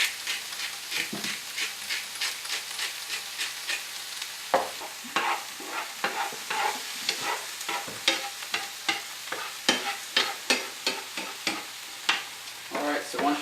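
Vegetables sautéing and sizzling in a pan while being stirred, a steady fry hiss broken by a rapid series of sharp scraping strokes from the spoon, close and fairly loud, with no voices.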